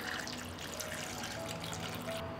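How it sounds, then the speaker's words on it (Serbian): Water runs steadily from a tap into a cooking pot holding a cloth and glass jars, filling it up to the jar lids; a continuous close pour with no voices. "Sipat ću i vodu do visine poklopca."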